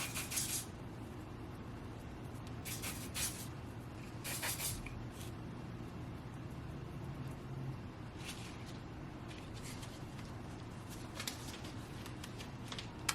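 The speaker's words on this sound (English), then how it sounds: "So I'm just gonna spray a little bit on my hand" Several short hissing bursts of ORS hair spray misted onto a hand, spaced irregularly over a steady low room hum, close and fairly quiet.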